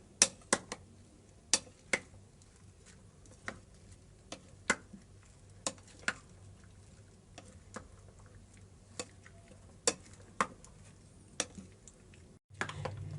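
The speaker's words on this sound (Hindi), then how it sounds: "सारे फ्रूट हमने बाउल में डाल लिए हैं। अब हम इसे अच्छी तरह मिक्स कर लेंगे।" A spoon clinks sharply and irregularly against a bowl while mango, apple and banana are stirred together, the taps and knocks close and crisp over a quiet room, with no talking.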